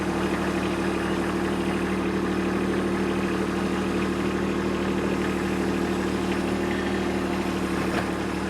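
A Kubota B2601 compact tractor engine idles steadily, a smooth low diesel hum with a constant drone and slight vibration, close and unchanging with no talk.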